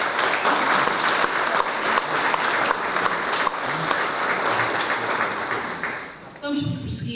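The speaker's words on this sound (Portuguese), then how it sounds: "Mais uma salva de palmas." Sustained round of audience applause at a cultural evening celebrating a society's anniversary, dense clapping for about six seconds before fading, then a voice and other sounds begin briefly at the end.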